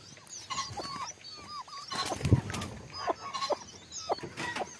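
Local black chicks roosting in a tree on a farm give repeated thin, high peeping calls in short bursts, fairly close, over a soft background rustle.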